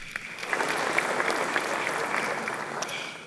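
A lecture audience claps in a dense, sustained round of applause, steady and fairly loud throughout, with no speech over it.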